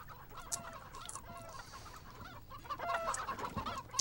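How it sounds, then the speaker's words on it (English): A crowd of chickens in a video game clucking and squawking over one another, busy and overlapping, growing louder and denser toward the end, with no talking. "You made me make so many chickens! There's so many of them!"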